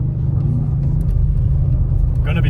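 An Audi RS6 C8 drives along a snowy road, its engine a steady low rumble heard from inside the car, with a brief higher-pitched noise near the end.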